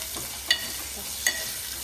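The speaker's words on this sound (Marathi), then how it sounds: "आता टॉमॅटो थोडे नरम होण्यासाठी शिजवून घ्या" Tomatoes softening in a hot pan for an eel fish curry give a steady sizzle, with two brief sharp clinks of a spoon against the pan.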